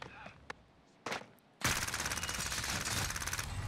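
Warzone gunfire: a couple of isolated shots, then a loud, sustained automatic burst of rapid, evenly spaced rounds close by, continuing to the end.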